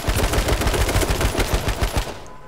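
Rapid automatic gunfire in the video game H1Z1, a loud, continuous burst of close-range shots in quick rhythm that runs for a couple of seconds before cutting off, with no talking over it.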